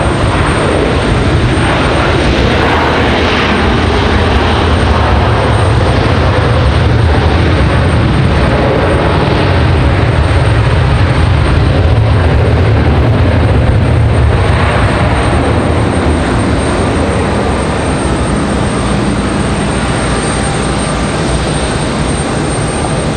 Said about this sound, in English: So, Delta 1518 going to touch down here.